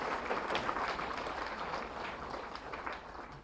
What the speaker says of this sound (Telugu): పితామహ బ్రహ్మర్షి పత్రిజీ గారికి గట్టిగా చప్పట్లు కొట్టుకుందాం.